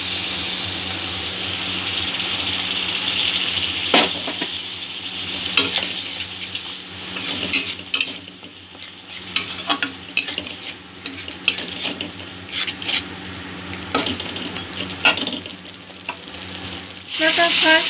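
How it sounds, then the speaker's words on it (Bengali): Spice paste stirred and fried in oil in a pan, with a continuous loud sizzle broken by repeated scraping and clinks of a spoon against the pan. "2-1 মিনিট ধরে মশলাটা এইভাবে নাড়া দিতে হবে যাতে মশলাটা পুড়ে না যায়।"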